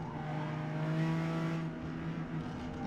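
A 1965 Ferrari Dino race car in Forza Motorsport at Indianapolis gives a steady, high-revving engine drone with a slight rise and fall in pitch, heard alone at moderate level.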